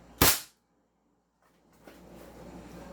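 A silver toy Desert Eagle pistol fires one sharp, loud crack near the start, followed by a second of silence and then soft handling noise and faint room sounds.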